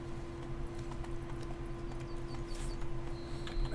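Hooves of the horse Roach galloping in The Witcher 3 video game, a rapid rhythmic clip-clop over a steady low game ambience, no talking.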